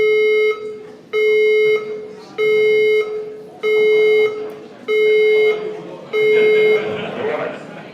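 A building fire alarm system sounds six loud, evenly spaced electronic tones, each about half a second long, with a noisier wash of sound under the last one.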